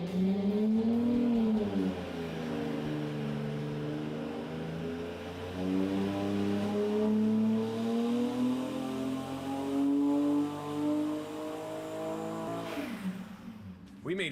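A Toyota 2JZ engine runs a full-throttle pull on a dyno, a loud, sustained droning roar that climbs steadily in pitch for about thirteen seconds before cutting off abruptly.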